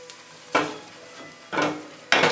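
Vegetables sautéing in a pan with reserved marinade, a soft low sizzle broken by three loud bursts of stirring and scraping against the pan, nobody talking.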